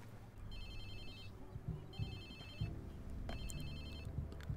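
A phone in Watch Dogs 2 rings in three repeated electronic bursts over quiet background noise, with faint low thumps between rings.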